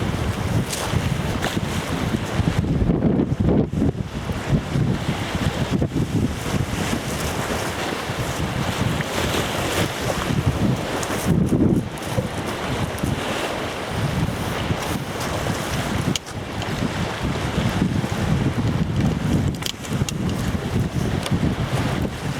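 Strong wind buffeting a microphone on a shore while fishing, a constant loud roar with gusty surges and the wash of waves underneath, no talking throughout.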